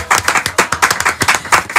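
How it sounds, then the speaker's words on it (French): Close, loud clapping at an awards ceremony for an Ivorian actor, with a few distinct sharp claps in an uneven rhythm rather than a full wash of applause. "On va applaudir l'un des meilleurs acteurs ivoiriens."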